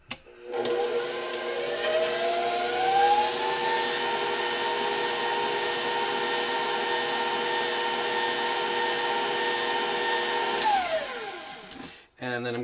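Electric mixer whirring steadily through Halloween brownie batter, a loud continuous motor hum that ramps up at the start, holds for about ten seconds and winds down before stopping.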